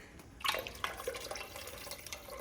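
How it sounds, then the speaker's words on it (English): Tomato puree is poured into a soup pot, beginning with a wet splat and continuing as a soft, sloppy stream with small plops. "Now I'm just going to add in the stringy tomatoes. It's a nice puree."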